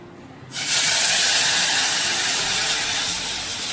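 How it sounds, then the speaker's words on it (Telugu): Hot tempering spices with curry leaves are poured into rasam, setting off a sudden loud, close hiss and sizzle after a brief quiet moment. The sizzle stays strong and steady, then slowly fades a little. "ఈ చారు తాలింపు వేస్తా అంటే ఈ చప్పుడు వస్తేనే మనకు చారు వేసిన ఫీలింగ్ అనిపిస్తుంది"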